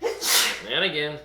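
One sharp sneeze bursts out close by, followed by a person speaking briefly.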